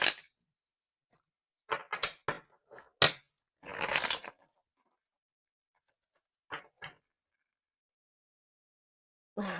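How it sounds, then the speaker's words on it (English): A deck of cards being shuffled in several short riffling bursts separated by pauses, close and fairly quiet in a still room, with no talking. "while I was shuffling this deck"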